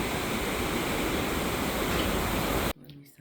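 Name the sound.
rushing river where two rivers meet at Aguas Calientes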